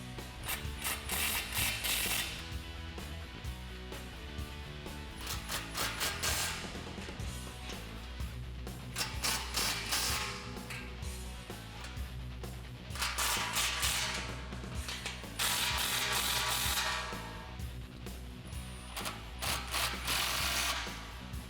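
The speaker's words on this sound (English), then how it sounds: "you're also gonna need that same 14mm socket to tighten down both D clamps." A ratchet with a 14mm socket tightens the D clamps on a Corsa sport exhaust fitted to a 2007-2013 Silverado or Sierra 4.8L, giving repeated bursts of rapid close clicking over about twenty seconds with no talk.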